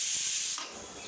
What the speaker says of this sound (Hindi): कुकर की 3 सीटी हो चुकी है